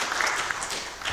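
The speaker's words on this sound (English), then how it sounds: "I think we deserve a hand clap." Brief, steady hand clapping from a seated audience at the close of a women's economic-opportunity program workshop, a dense patter of applause lasting about a second.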